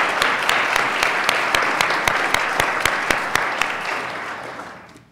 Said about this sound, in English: I think we should give him a round of applause before we move